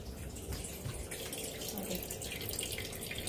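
Water drains from an RO purifier tank while it is being refilled, a steady close splashing rush with faint dripping and trickling throughout and no talk.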